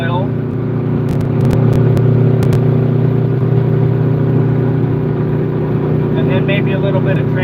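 An old truck engine cruising, a loud steady low drone with constant harmonic hum and brief clicks, running near throughout without talk.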